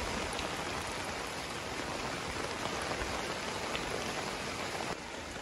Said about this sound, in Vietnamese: Ui, mưa kinh hoàng anh em.